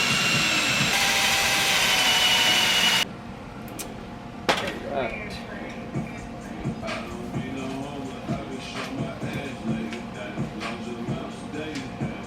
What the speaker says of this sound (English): I'm gonna get this thing drilled